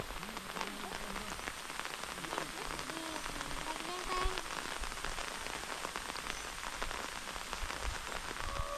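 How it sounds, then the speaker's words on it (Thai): Rain pattering steadily on surfaces outdoors in summer, a dense, continuous hiss with scattered nearer drops, holding a fairly even level throughout with no clear talk. "ฝนก็เริ่มตกแห้งมาแห้งมาละ"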